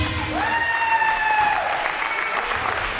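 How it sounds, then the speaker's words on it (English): Audience applause for veteran judges at a stunt studio fight club tryout, continuous crowd clapping under a loud sustained tonal whine that rises then holds and fades, suggesting a whistle or feedback over the clapping. "let's give one more big round of applause for my veteran judges."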